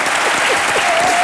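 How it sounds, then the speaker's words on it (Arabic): A loud, dense burst of audience applause fills a television studio, constant and close for its whole brief length, with a faint voice beneath it. "تصفيق على امي"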